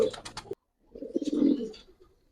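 Giribaz racing pigeons in a loft give a short burst of coos, then, after a brief silence, a longer rolling coo, close and fairly loud with no talk.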